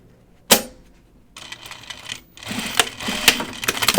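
Sewing machine stitching pajama fabric, starting with a sharp click, then short bursts of needle chatter separated by a brief pause, building into a steadier rattling run toward the end.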